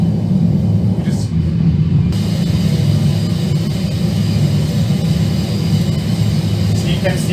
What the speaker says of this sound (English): landing gear is down. So the flaps are out. Now it is heading to the runway.